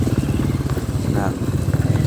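A motorcycle engine rumbles steadily close by, its low throbbing tone continuing throughout, with a voice talking over it.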